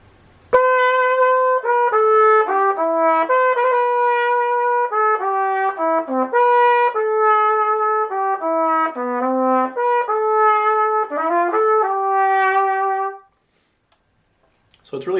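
Trumpet plays the opening line of a song, clear sustained notes and a quicker run of sixteenth notes, solo and close for about thirteen seconds before fading into silence.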